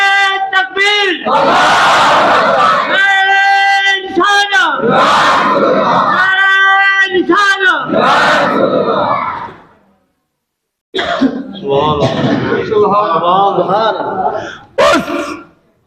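A large crowd at an Islamic religious gathering loudly chants the takbir slogan in repeated sustained roars, answering a lead voice, with a short silence before another round of chanting.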